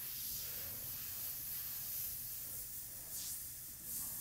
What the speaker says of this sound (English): I have the freedom to spray over